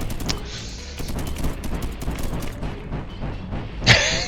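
Explosions and gunfire burst from the video game Deep Among the Swarm, a dense, continuous barrage of cracks and booms with a sharper blast near the end.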